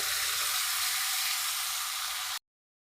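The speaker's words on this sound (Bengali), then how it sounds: "আমি মশলাটা কিছুক্ষণ কষিয়ে নেব" Ground spice paste with turmeric and chili frying in a pan, a loud continuous hiss of sizzling that runs steadily for about two seconds before cutting off abruptly to silence.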